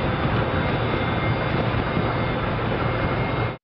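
A MiG-21 Lancer military jet flying over during the NATO Poseidon naval exercise on the Black Sea, a loud, continuous broadband roar that holds steady and then cuts off abruptly.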